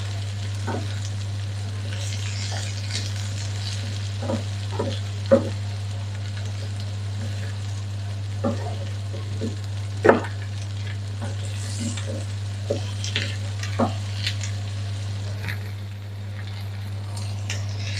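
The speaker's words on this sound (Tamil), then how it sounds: "இப்படி வதங்கி கொண்டிருக்கே நாங்கள் பொரிச்செடுத்த சிக்கன் இருக்குத்தானே அதையும் இதுக்குள்ள" Fried chicken wings are stirred into sautéing green chillies in a pan, giving a steady close sizzle with scattered clicks and scrapes of the spoon, an electrical hum running underneath and no talk.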